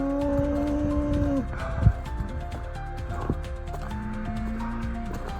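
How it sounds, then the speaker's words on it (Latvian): Cows mooing on a mountain trail on the Camino Primitivo in Spain, long drawn-out lowing calls nearby over a steady outdoor background, with a few knocks and short sounds in between. "Un mums govis nāk pretī."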